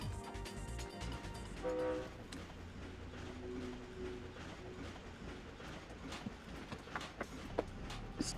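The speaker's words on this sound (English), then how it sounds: "we are boarding the train, and I think there's no dialogue here" A train in the Ratchet & Clank video game rumbles along with a steady mechanical roar, brief horn-like tones and scattered clanks, loud and continuous without speech.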